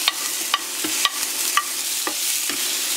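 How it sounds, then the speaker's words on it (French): Onions and peppers frying in hot oil in a pan, a steady close sizzle with a few sharp stirring scrapes spaced through it, and nobody talking. "Ensuite, je viens y verser les oignons avec les poivrons."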